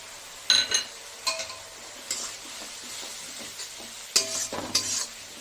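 Chicken pieces sautéing with salt, turmeric, red chilli and coriander powder, giving a low steady sizzle broken by several sharp scraping stirs and clinks of a spoon against the pan.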